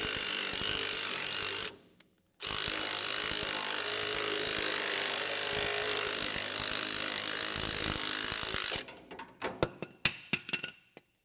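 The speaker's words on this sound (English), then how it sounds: "So hopefully this will come out with the pulley puller." Pulley puller being torqued to draw a wing drive coupler off a Kemper or John Deere rotary head: a loud, steady grinding rub with a short break, ending in sharp metallic clinks and knocks.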